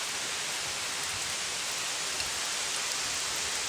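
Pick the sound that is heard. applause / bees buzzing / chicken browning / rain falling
rain falling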